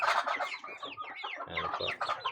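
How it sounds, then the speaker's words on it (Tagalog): Muscovy duck chicks a few weeks old peep continuously, a busy overlapping chorus of high chirps close by, with no talk. "Ito naman po yung ating mga weeks old na sisiw."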